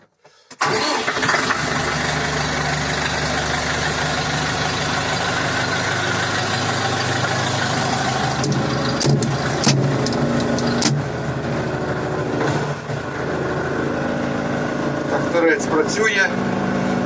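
A TM-160 walk-behind tractor engine cranks, catches after a brief moment and settles into a loud, steady near idle with a few knocks and clatters, running alone without talking.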